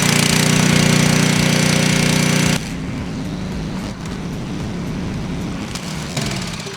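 The engine of a 4.0 pressure washing skid runs as a loud, steady mechanical drone, then drops abruptly to a lower but continuous running level partway through, with no voices.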